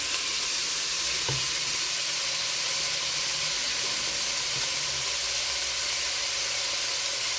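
Pork pieces for green chili sizzling in a hot pan, a steady loud hiss of frying that runs without a break, with a couple of faint clinks.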